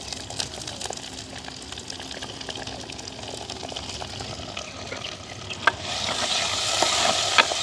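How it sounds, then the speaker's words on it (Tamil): Chopped onion and green chilies fry and sizzle in a pot of oil while being stirred, a steady close crackle with scraping stir strokes that grows louder near the end. "வெங்காயம் பச்சை மிளகாய் கொஞ்சம் வதங்கட்டுங்க எங்களுக்கு."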